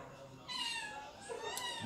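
A pet cat gives a single drawn-out meow at close range, loud and wavering, with a voice briefly heard alongside.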